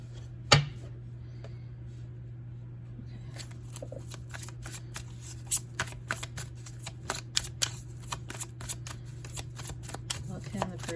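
Tarot cards are shuffled close up with rapid papery flicks and clicks that grow busier after a quiet start, over a low steady hum, with a voice at times.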